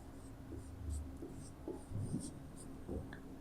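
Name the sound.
pen writing on paper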